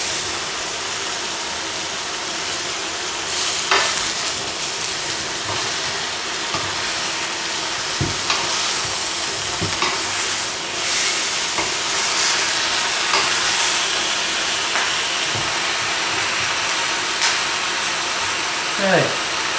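Oxtail and lamb pieces fry in a pan as sauces go in, a steady loud sizzle with intermittent clanks and scrapes of stirring throughout, while a person talks over it.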